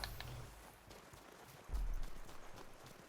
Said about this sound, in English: So all these aether goats or rams running around.